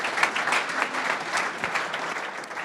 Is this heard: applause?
yes